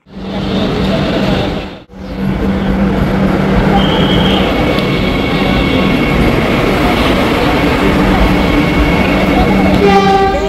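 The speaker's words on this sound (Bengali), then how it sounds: "ওই যে দূর থেকে দেখা যাচ্ছে বন্দে ভারত।" A loud, steady rumble of a Vande Bharat express train arriving at a station rolls through continuously, with a brief break near the start and faint horn-like tones high above.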